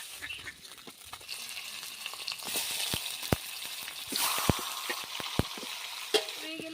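A fish head fries in oil in a village-style kitchen, a soft steady sizzle close by, punctuated by sharp clinks of a spatula against the pan.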